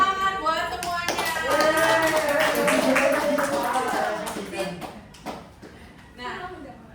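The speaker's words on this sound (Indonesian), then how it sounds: "Tepuk tangan buat semuanya." Children clap their hands in a classroom, a quick patter of taps blended with excited young voices and cheering that swells and then fades into scattered claps and chatter.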